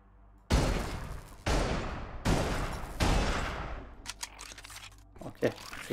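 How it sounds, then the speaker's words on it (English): A shotgun fires four loud, booming blasts in the video game Ripout, spaced under a second apart, each with a decaying tail, followed by softer clicks and handling noises. "Okay, it's a shotgun."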